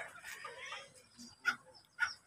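Ornamental chickens kept on a small farm give soft, faint clucks, with two sharper short calls standing out near the end over a quiet background.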